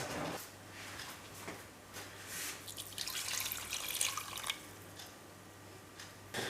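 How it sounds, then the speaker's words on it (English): Water poured from a container over sliced orange in a pot for marmalade, a soft, uneven splashing and trickling, fairly close and quiet, with a few small drips. "I'm going to add as much water as I need to cover this."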